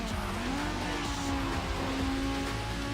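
Engine of a car racing at high speed in the video game Need for Speed: Underground, a steady loud whine with a rising pitch sustained over continuous road and tire noise.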